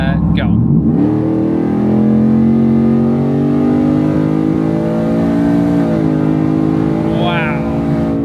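A pickup heard from inside the cab of a 700+ HP Ford F-150 accelerating hard: a loud, sustained engine roar climbing in pitch through the gears, with a short shift dip midway, as someone speaks briefly at the start.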